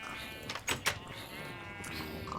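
Sheep bleating in the video game Minecraft, a couple of short wavering bleats close together near the start amid a steady low background, no talking over them.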